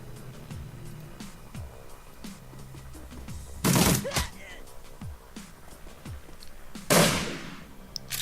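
Gunfire in the Shadowrun Returns video game as shooters fire on Brotherhood enemies: two loud bursts of shots, each with a short ringing tail, rise out of a quieter stretch of scattered sharp clicks and impacts.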